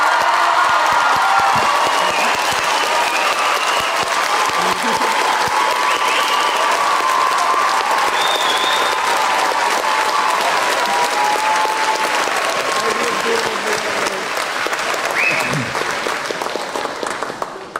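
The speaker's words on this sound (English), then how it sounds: "a round of applause for the class of 2023" A high school graduation crowd in Guam gives the class of 2023 sustained applause, dense clapping mixed with scattered cheers and voices, holding steady for nearly eighteen seconds before tapering slightly at the end.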